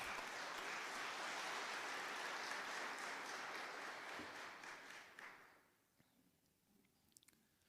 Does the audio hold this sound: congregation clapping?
yes